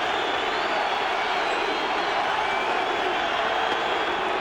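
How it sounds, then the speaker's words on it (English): Baseball stadium crowd at a Twins vs Yankees game chanting for Matsui, a steady, loud wash of massed voices with no distinct breaks, heard from a distance. "The crowd chanting Matsui."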